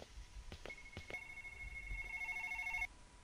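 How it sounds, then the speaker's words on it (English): Telephone rings in a dim game setting, starting after a couple of soft clicks and holding as a steady, faint electronic trill for about two seconds over a low background hum. "Another phone call."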